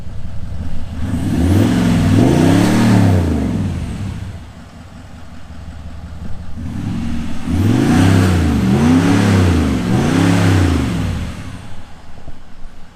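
A deep, throaty Range Rover 4.4 TDV8 diesel engine revs up and down in two rounds of blips, loud and close with a raw rumbling exhaust, its rear silencer fallen off.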